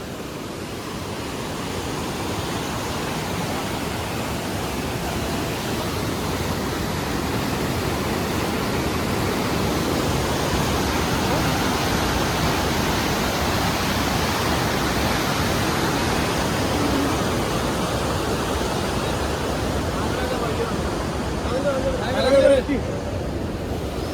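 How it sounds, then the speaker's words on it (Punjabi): Fast river water rushes beneath a bridge with a steady, broad roar that persists throughout, close and loud, with a faint voice briefly audible near the end. "ਪਾਣੀ ਬਹੁਤ ਤੇਜ਼ ਆ"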